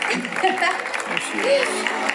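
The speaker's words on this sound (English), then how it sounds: "Let's give a big round of applause to Shuka." Crowd applause and cheering rise at a SeaWorld whale show, clapping mixed with whoops and voices from a large outdoor audience.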